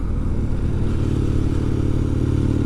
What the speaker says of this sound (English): Right, so drop it down a couple of gears